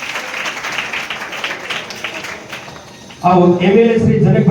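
An audience at a student award ceremony breaks into steady, moderately loud applause that fades away, after which a loud voice begins speaking.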